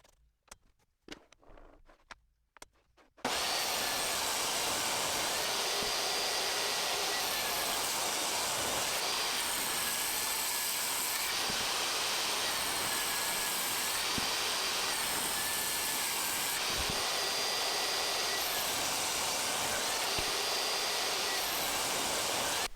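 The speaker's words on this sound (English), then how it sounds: "I can run them through the table saw and resaw them into 5/8 inch thick pieces" A table saw resaws wood strips: a few seconds of quiet handling noises, then the blade starts abruptly and whines loud and steady for the rest of the clip as stock feeds through.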